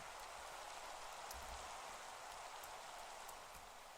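Steady, soft rain falls in Minecraft with a continuous gentle hiss and scattered drips, with no voices.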